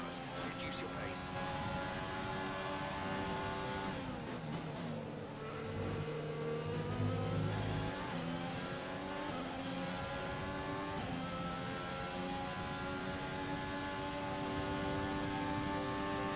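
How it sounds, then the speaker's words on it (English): A Formula 1 racing car engine revs in the F1 2020 video game during the Austria or Britain race, its high whining note climbing and shifting pitch steadily and loud throughout, with a short dip in the middle. "The engine note change there was phenomenal."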